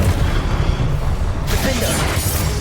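A Confringo blasting spell bursts in Hogwarts Legacy, a loud broadband whoosh-blast arriving about halfway through over a dense bed of combat rumble and noise.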